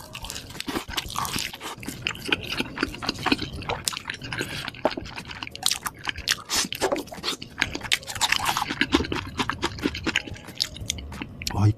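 Close, wet chewing of a cheeseburger, steady crunchy and sticky mouth sounds with lip smacks repeating throughout at a constant near-mic level, without talking.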